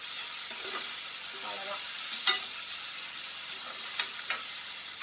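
Cumin seeds frying in oil in a pan for a Malabar cucumber kootu, a steady gentle sizzle with a few sharp clicks of a spoon and one brief spoken word.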